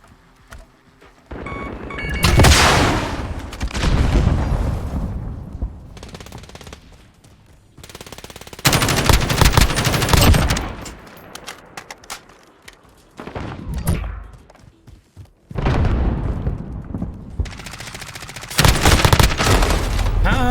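Overwatch 2 gunfire comes in long, loud bursts of rapid automatic shots with booms, broken by quieter gaps, and a player talks between volleys.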